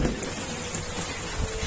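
Steady rain pours down outside an open window, a dense, continuous hiss filling the space evenly from start to finish with no voices over it.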